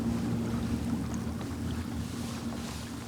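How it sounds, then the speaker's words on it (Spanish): A distant boat motor drones steadily beneath wind and water noise, a low continuous hum with no talking. "Se escucha el motor de la lancha allá."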